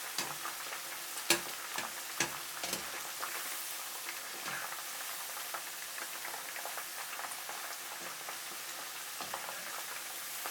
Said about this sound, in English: Fry them for 1 minute and 30 seconds while stirring.